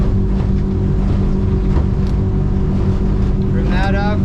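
Twin outboard motors drive a 2007 Weldcraft Ocean King aluminum boat at high speed, a loud steady droning roar with strong low hum and rushing wind and water, and a voice briefly audible beneath it.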